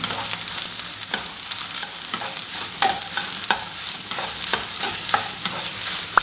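Soya chunks (meal maker) frying in hot oil, crispy-fried for a gravy, with a steady dense sizzle and crackle throughout, occasional stirring scrapes and pops close by, no voices.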